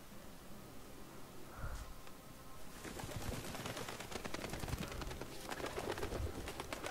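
Pigeons coo in the stealth video game Thief, a soft bird call emerging briefly amid a dense, noisy game soundscape with rattling bursts, moderately loud and continuous with no talk.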